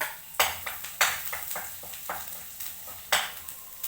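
Garlic sizzling in a hot pan while being stirred for chop suey, a steady frying hiss broken by repeated scraping strokes of a spatula, close and fairly loud.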